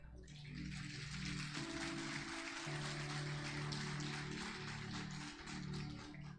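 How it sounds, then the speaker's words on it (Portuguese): A church congregation bursts into sustained, dense applause that fills the room from start to finish, with a low steady tone held underneath throughout. "Você aplaude Jesus?"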